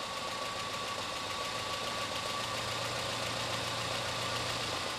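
A car engine idles steadily on methane gas, a constant low rumble with a faint knocking texture and a thin whine running through it, even and unbroken.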